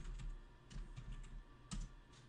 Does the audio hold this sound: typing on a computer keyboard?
yes